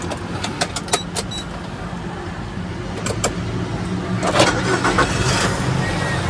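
A 2008 Nissan Serena HWS 2.0 automatic is started: a few clicks come first, then the starter cranks and the engine catches into a steady idle, heard close and without talk.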